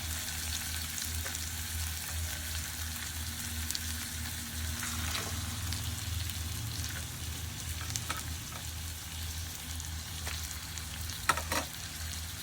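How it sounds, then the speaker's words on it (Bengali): Taro leaves cooked with Kashmiri chilli powder and spices, stirred in a pan as the excess water cooks off, giving a steady, continuous frying sizzle with occasional soft scrapes of the spatula and no talking. "এটা আমি পুরো শুকনো হওয়া অবধি নেড়ে চেড়ে এইভাবেই নাড়তে চাড়তে থাকবো"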